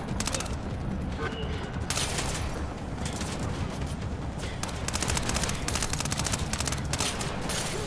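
Sustained video-game gunfire from Splinter Cell Blacklist, dense bursts of automatic shots with rhythmic rattling that grows heavier toward the end, loud and continuous, with someone talking under the shooting.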